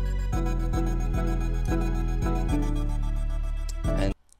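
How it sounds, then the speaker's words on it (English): Strings layered into a music production, playing sustained swells over a pulsing bass line with regular low hits, full and steady before cutting off sharply at the end. "I also added some strings"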